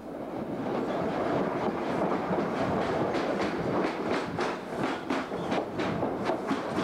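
In 1991, a train crosses the Forth Bridge over the Firth of Forth on the Dundee to Edinburgh line, with a steady rolling rumble and a regular clickety-clack of wheels on rail joints throughout.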